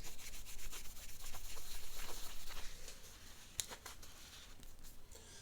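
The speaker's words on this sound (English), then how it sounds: "we'll take our rag here and see if we can just buff this" A rag buffs a corroded clutch knob with a soft, close rubbing and scrubbing in quick, uneven strokes. The sound eases off partway through, and there is one small tap.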